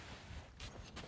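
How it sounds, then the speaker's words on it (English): Two short gunshot bursts from the pirate video game Sea of Thieves, faint and distant, cracking out about half a second apart over a low, steady game-ambience rumble. "I hear gunshots."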